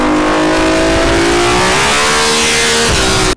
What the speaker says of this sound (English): quit revving the bike